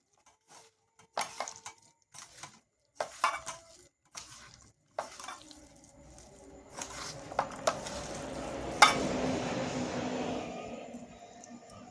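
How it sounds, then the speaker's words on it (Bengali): Chicken pakora batter being mixed by hand with water in a bowl, scattered soft clinks and squelchy stirring sounds, starting sparse and becoming a denser wet mushing noise, quiet and close. "জল দিয়ে এটাকে মেখে নেব"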